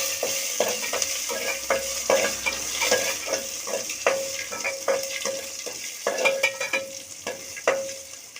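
Crushed garlic and curry leaves sizzle in hot oil for a sambar tempering, a steady frying hiss under repeated clinks of a spoon stirring the pan.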